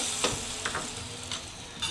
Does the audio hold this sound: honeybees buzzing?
no